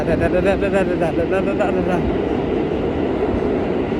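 A subway train rides through the underground toward Broadway Junction in New York, with a loud, steady rumble and rattle of the car. Squealing wheel tones come early, and voices talk over the noise.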